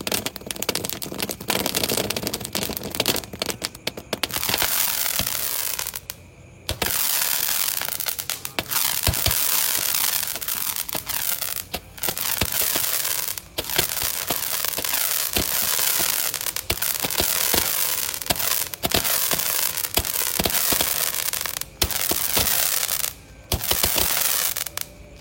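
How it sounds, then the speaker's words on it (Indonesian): Five Roman candle fireworks, lit by the fuse on a Ramadan night, fire in a dense, continuous barrage of loud pops, bangs and crackles lasting about twenty-five seconds with only brief gaps. "yang pertama kita nyalakan 5 Romaine candle Prete guys"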